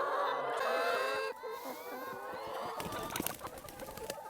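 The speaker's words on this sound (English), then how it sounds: "And the birds show themselves." Chickens and other fowl on a summer farm, with dense overlapping clucks and bird calls close by, busy and continuous, with a few sharper clicks and rustles later on.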